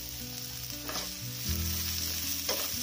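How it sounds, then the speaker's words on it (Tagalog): Onions dropped into hot oil left from frying marinated chicken for chicken hamonado, a loud continuous sizzle that swells as they go in, with a couple of stirring scrapes. "Isunod ko na paglagay yung sibuyas."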